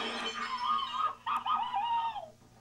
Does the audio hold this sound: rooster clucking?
yes